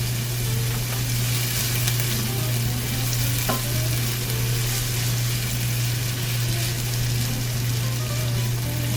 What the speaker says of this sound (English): Season with salt and saute until these aromatics are translucent and very fragrant and tender.